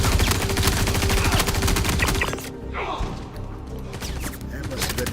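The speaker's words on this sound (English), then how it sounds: "That must have been the guy shooting at me there." Another player fires bursts of rapid gunshots in Star Citizen, dense and loud at first, then pausing briefly before more shots resume, with game sounds mixed in.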